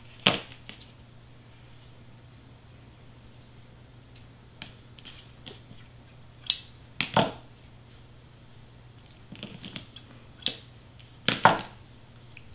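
Pink craft paper being trimmed straight across for a wrapped-present mini banner: sparse, sharp cutting snips and clicks spaced a second or more apart over a quiet room hum.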